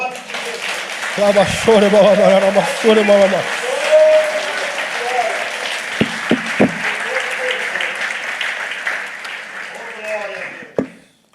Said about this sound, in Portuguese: aplaude Ele.